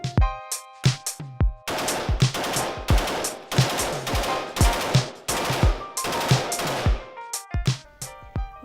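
Gunfire at an indoor shooting range in Denver, a rapid series of sharp, loud reports with echoing tails, some in quick bursts and others spaced, with no talking.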